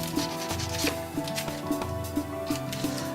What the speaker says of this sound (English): Firstly, you cut off the hard edges of the onion on either side.